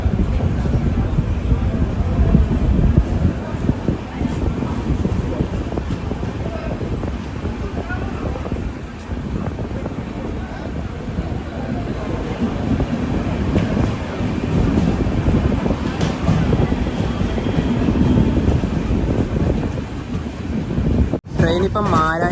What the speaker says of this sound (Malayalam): 12:30 ആലപ്പുഴയിൽ നിന്ന് ഇതാ ട്രെയിൻ എടുത്തിരിക്കുകയാണ്.